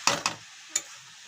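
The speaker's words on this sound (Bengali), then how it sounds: "এবার ভালো করে নেড়ে চেড়ে নিচ্ছে" A spoon stirs momo filling in a pan: two quick scraping strokes close together, then a single later scrape, over a faint background hiss.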